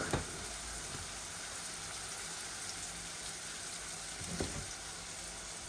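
Onions frying with chicken in a pan, a steady soft sizzle that stays even throughout, with a couple of faint utensil knocks and no talking.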